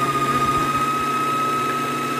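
An electric sewing machine runs with its foot pedal pressed down, giving a continuous steady motor whir with a faint high whine, close and even throughout, with no talking.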